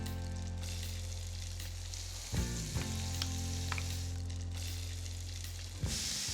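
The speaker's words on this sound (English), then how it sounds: "I'm gonna cook my onions right in here." Onions sizzle in a pan of meat juices and flour, a constant close frying hiss with a couple of louder scraping stirs midway and near the end, and no talking.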